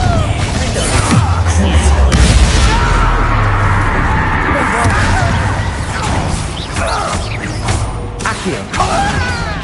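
Confringo blasting spell exploding in Hogwarts Legacy combat, a loud series of bangs and crashes with whooshing energy, several impacts spread across busy fighting noise, and a voice shouting.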